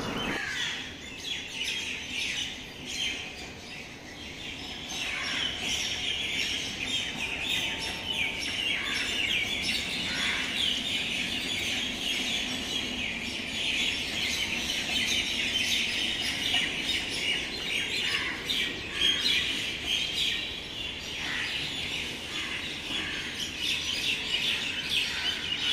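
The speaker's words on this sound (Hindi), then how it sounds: "चिड़ियों की चहचहाट की आवाज़ें हर तरफ से आ रही हैं" Many birds chirp and twitter outdoors at dawn, a dense continuous chorus of overlapping calls from all around at moderate distance, steady throughout with no talking.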